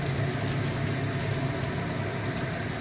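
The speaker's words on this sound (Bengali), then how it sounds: "একটু হালকা করে ভেজে নেব এটাকে।" Semolina lightly frying in a pan over a lowered flame, a constant soft hissing crackle like light rain, close and even, with no talk.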